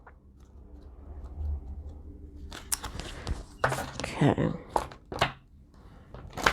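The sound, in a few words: shuffling a deck of cards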